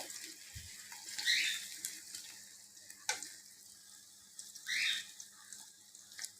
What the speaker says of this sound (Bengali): আমি পেঁয়াজটা খুব ভালোভাবে একটু ভেজে নেব